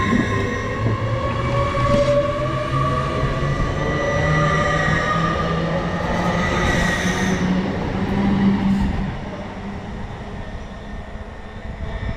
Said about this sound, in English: going up now is going to be the 1742 LNER service to Bradford Forster Square